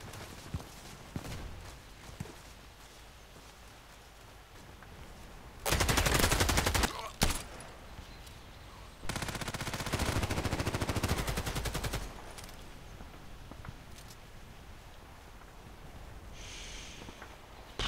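Gunfire in the online shooter Contract Wars: two loud, dense automatic bursts, one about a second long and a longer one lasting around three seconds, with quieter footsteps and game ambience between them.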